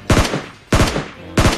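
Three bursts of gunfire from the battle-royale game PUBG on the snowy Vikendi map, each a quick cluster of sharp shots with a short echoing tail, loud and close, separated by brief pauses.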